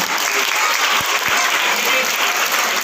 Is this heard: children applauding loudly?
yes